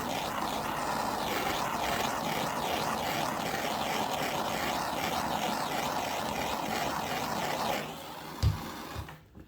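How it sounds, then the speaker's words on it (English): A heat gun blows hot air to shrink heat-shrink tubing over a repaired wire on a Ford Explorer throttle body connector, a steady close whooshing drone that cuts off near the end, followed by a couple of soft clunks. "I'm going to go ahead and use some heat and shrink that wire down right quick."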